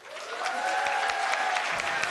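An audience at a NASA event applauds, a dense wash of clapping that swells quickly and holds steady, with faint voices mixed in.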